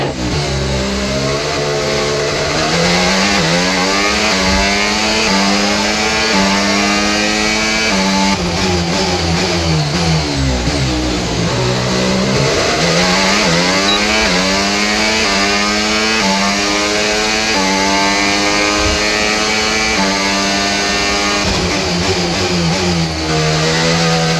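F1 race car engine in F1 25, a loud high-revving screaming whine that climbs and drops through gear changes continuously, close and steady with no talking.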